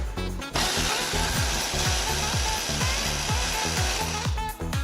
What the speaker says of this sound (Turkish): ben şimdi bunu ronda'ya da vuracağız